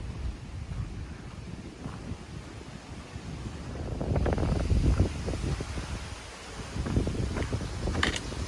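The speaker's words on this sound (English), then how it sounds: "Oh my gosh, it's so windy up here." Strong wind gusts buffet the microphone at Shuckstack Fire Tower in Great Smoky Mountains National Park, rumbling and swelling, with louder bursts midway and near the end.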